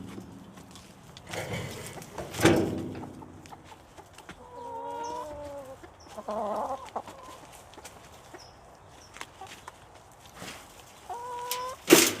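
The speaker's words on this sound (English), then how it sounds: "the chickens are so fun to watch." Backyard chickens beside a compost pile cluck and croon in drawn-out, wavering calls spread across several seconds, with sharper, louder squawks and rustling between them.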